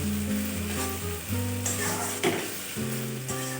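A paste of ground ginger, cumin and onion sizzles in hot oil over fried onion and tomato for fish-head moong dal, with a steady frying hiss, a few stirring scrapes and a low hum underneath.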